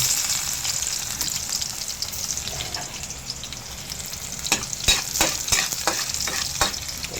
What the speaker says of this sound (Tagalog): Ilagay na po natin yung bawang.